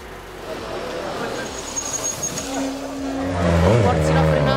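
Suzuki GSX-R 1000R supersport motorcycle engine running steadily, then swelling louder as it revs up near the end, with a rising whine over the low rumble and a voice talking over it.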